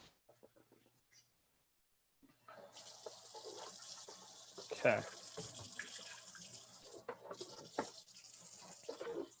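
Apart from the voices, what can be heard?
cold tap water running over pasta in strainer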